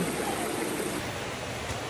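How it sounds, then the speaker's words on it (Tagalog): Rain falling beside a river makes a steady, faint broadband hiss with a soft rushing quality and no distinct drops or voices during the brief moment. "Pero umuulan."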